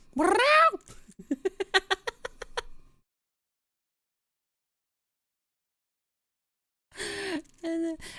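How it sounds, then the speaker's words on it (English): A pet cat meows at the front door: a long rising-falling meow, then a quick run of short chirping calls, a silent pause, and two more short meows close to the listener. "from time to time I hear her go meow wow"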